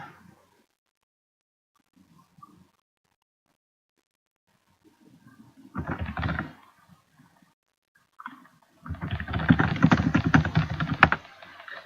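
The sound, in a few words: fast typing on a computer keyboard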